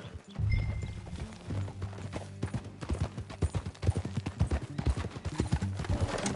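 Hooves of a ridden horse clip-clop in a steady, close rhythm of sharp strikes that carries on throughout, with a short whinny near the start and no talk.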